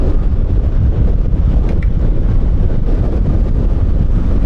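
Strong wind buffeting a microphone during a rainy-weather ride on a Fortress 160 maxi scooter, a loud, constant low roar of gusting noise with no voices.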